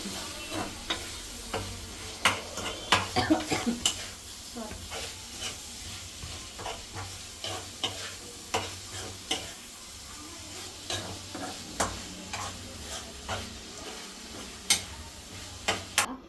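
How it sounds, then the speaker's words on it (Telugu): A spoon scrapes and knocks around a pan of chicken fry with tomatoes, in repeated irregular strokes over a soft continuous sizzle of frying, close by with no voices. "ఇలా కలుపుతూనే ఉండాలి టమాటాలు వేసేసుకున్నాం అనుకో టమాటో వేసుకున్నామండి"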